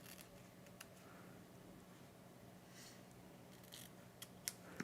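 Scissors snip off ribbon tails on a bow tie gift box, faint close cuts over a quiet room hum, with a few sharper snips near the end.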